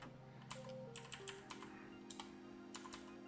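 Typing on a computer keyboard while entering DNS addresses in Linux network settings, a few soft scattered keystrokes and short bursts of clicks, close and quiet over a faint background hum.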